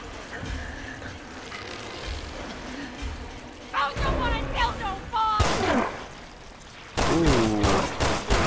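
Gunfire in the survival horror video game Resident Evil Revelations 2, with a burst of shots and sharp reports that stand out from a steady backdrop of game ambience and rain-like noise, while a voice talks over the scene.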